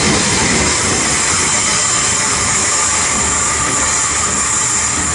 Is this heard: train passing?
yes